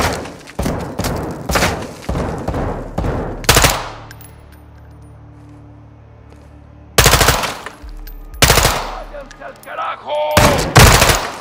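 Automatic gunfire from the video game Call of Duty Modern Warfare 2 comes in rapid loud bursts, first a string of quick volleys, then a quiet lull with low ambient rumble, then more close bursts near the end.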